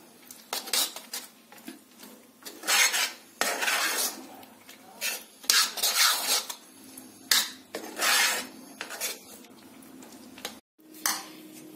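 A spoon scrapes and clinks against a metal vessel while peanut laddu ingredients are mixed, in repeated bursts of close, bright scraping separated by brief pauses, with no talk.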